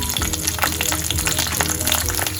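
Green chilies hit hot oil with mustard seeds and lentils in a pan, giving a loud, close, crackling sizzle with sharp spatters and pops throughout, while a voice speaks briefly.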